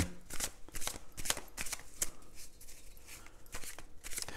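Small cards being shuffled over and over, a steady close-up rustle and riffle of card edges lasting a few seconds with no talking.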